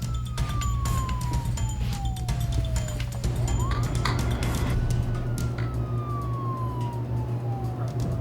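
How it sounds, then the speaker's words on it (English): Police sirens wail, one tone sliding down then rising again, over a steady engine rumble and traffic noise, loud and continuous. "There's already like 3 police cars outside."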